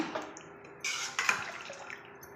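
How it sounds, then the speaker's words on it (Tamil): Water bubbling in a pressure cooker pot nearby before rice is added, quiet gurgling broken by a couple of louder splashy bursts. "பாருங்கள் தண்ணி நல்லா கொதிக்குது"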